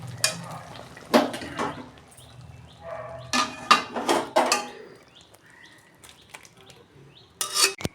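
Cooked pointed gourd curry made with ghee and thick mung dal being poured out of a pan, heard as scraping and rubbing clatters with a few louder knocks of utensil on metal, close and without talk.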